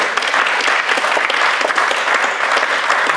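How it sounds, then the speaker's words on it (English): Dense, lively clapping from a crowd at a university talk at TU Eindhoven fills the space, a continuous roar of hands without any pause. "A round of applause."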